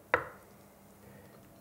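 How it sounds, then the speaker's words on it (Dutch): A knife slices a boiled egg in half on a cutting board in a home kitchen while a coconut curry is being made, giving one short, crisp cut followed by quiet. "Een eitje door midden."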